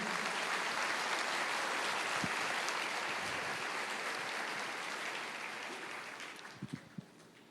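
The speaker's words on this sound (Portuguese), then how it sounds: "Você pode dar uma salva de palmas para Jesus?" A church congregation applauds for Jesus during a sermon, a steady wash of clapping that slowly fades, ending with a few isolated claps.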